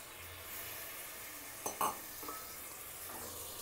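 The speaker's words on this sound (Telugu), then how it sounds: "ఈ మసాలా ఈ పెరుగు బాగా ఉడకనివ్వాలి బాగా వేగాలి ఆయిల్లో" Yogurt and masala fry in oil for egg biryani, a faint steady sizzle with a couple of brief spoon-against-pot stirring clanks in the middle.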